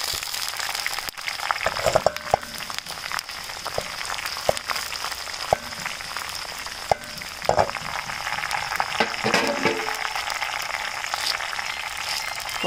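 Dried red chillies frying with small shallots in hot oil make a steady crackling sizzle, with a few sharp pops and light stirring taps near the pan, and no voices.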